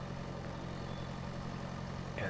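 A tractor engine idles in the Pure Farming 2018 video game, a steady low rumbling drone at moderate volume with a slight rise near the end, no talking over it.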